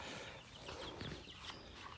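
Soft, faint clucking and peeping from chicks nearby on a farm, a few short calls scattered over low background noise.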